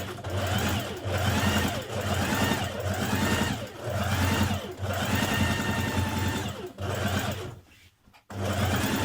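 A sewing machine runs steadily, stitching a trouser seam with a 1.5 centimetre seam allowance, its fast rhythmic whirring close and loud in several long runs separated by brief pauses, ending with a short stop before restarting.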